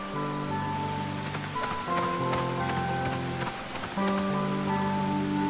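Rain patters steadily on a surface, a continuous soft drumming heard over sustained musical tones.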